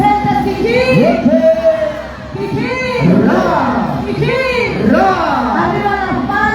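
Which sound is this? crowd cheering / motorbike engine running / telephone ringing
crowd cheering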